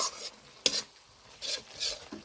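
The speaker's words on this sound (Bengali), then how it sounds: "বেশ কিছুটা সময় ধরে ভালো করে কষিয়ে নেব।" Spice paste being stir-fried over a low gas flame for a yogurt bhetki fish curry, heard as a few soft scraping stirs with a faint sizzle between them, close by, with no talking.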